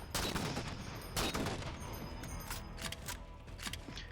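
Rapid gunfire aimed at hunters in Halo 4 Spartan Ops, dense bursts of crackling shots in quick succession, loud and close throughout.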